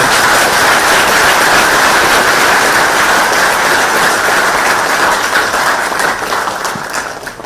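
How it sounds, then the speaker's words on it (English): An audience at a political talk event in Texas breaks into a big round of applause, loud dense clapping from many people that holds steady for several seconds before easing slightly toward the end. "this needs a big round of applause"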